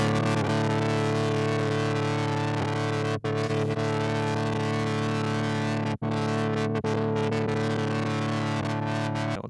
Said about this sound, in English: You hear those dropouts that go to near total silence?